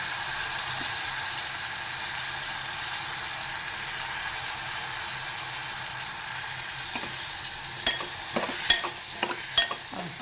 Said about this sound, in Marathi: सुरण पण मस्तपैकी अशा तेलामध्ये परतवून घ्यायचं.